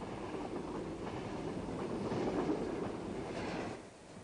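A local train on Switzerland's Lötschberg Railway rumbles past steadily with a low rolling drone and faint rail clatter, fading slightly at the end.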